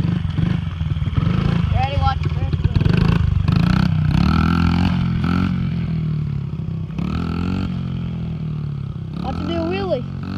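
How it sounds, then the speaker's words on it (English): A small 50cc motorcycle engine buzzes and revs up and down repeatedly at close range during a race with jumps, while people talk and shout excitedly over it. "This is the motorcycle race."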